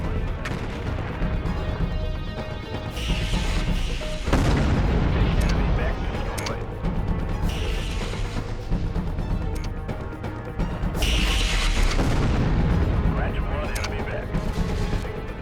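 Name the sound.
explosions in MechCommander 2 video game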